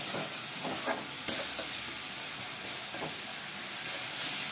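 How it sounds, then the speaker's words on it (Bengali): Spice masala sautéing in oil over a low flame for a kakrol curry, a soft steady hiss with occasional faint stirring scrapes and one sharp tap. "এটা খুব ভালো মতন সাতলাতে হবে যতক্ষণ না অবধি তেলটা ছেড়ে যাচ্ছে মশলার থেকে।"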